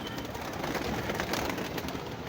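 Domestic pigeons in a loft setup coo softly and repeatedly against a dense, hissy background, fairly near and unaccompanied by voices.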